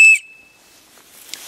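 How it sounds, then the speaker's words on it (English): A Slim Rescue Howler emergency whistle gives one short, very loud, piercing blast. It cuts off abruptly and leaves near silence with a faint rustle afterward. "You've got a emergency whistle."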